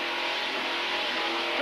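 A racing powerboat with a damaged exhaust from a 2003 Pro Vee 2 race runs with a steady, harsh, rasping engine roar. The roar sounds close and continuous throughout, with no clear pauses.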